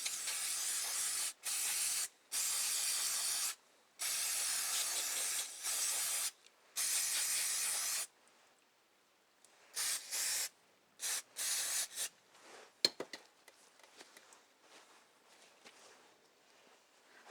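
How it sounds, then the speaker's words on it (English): Carburetor cleaner sprayed in repeated hissing bursts over the outside of a Tecumseh diaphragm carburetor from a Toro snowblower, several long blasts followed by shorter spurts and light handling clicks. "I put my fingers over the front and back hole and I just spray off the outside."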